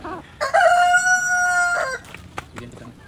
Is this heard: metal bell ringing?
no